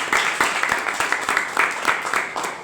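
An audience claps in a steady wave of applause to welcome a visiting professor at a student yoga talk, dense and fairly loud throughout.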